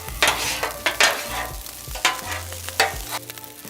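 Cajun fried rice with sausage and vegetables is stirred and scraped across a hot griddle, sizzling steadily with repeated bursts of spatula scraping, close and fairly loud.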